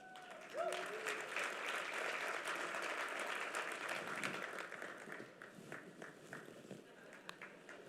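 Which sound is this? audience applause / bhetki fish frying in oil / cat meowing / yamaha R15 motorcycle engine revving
audience applause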